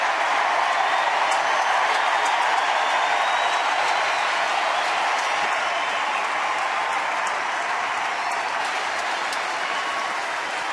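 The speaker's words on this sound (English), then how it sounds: "A huge crowd happy to see Derek Holland do well tonight" A huge ballpark crowd of about 41,205 at a Houston–Texas baseball game roars in a sustained ovation, dense cheering and applause filling the whole stretch at steady loudness with no break.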